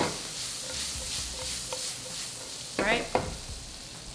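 A spatula stirs red and green bell peppers frying in a pan with steady sizzling and scraping, plus a few louder clatters near the end. One person briefly speaks.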